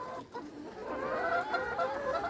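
Chickens clucking steadily in a poultry pen, low and close with soft overlapping clucks and a faint rooster-like call, no talking.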